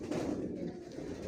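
Young imported Johnson-line racing pigeons cooing in a loft, a steady low murmuring coo that continues throughout at close range with no talk.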